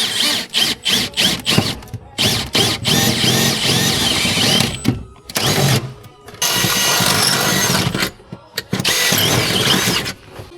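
A power drill bores into the metal around a BMW drift car's gearbox mount, giving loud close whining bursts that start and stop repeatedly with short pauses between them.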